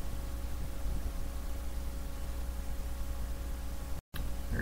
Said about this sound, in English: I'm going back to the ghost box because even though there's the white noise and stuff, I think it comes across a lot less choppy.